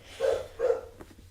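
Two short dog barks in quick succession, moderately loud and fairly close, followed by a faint quieter yelp.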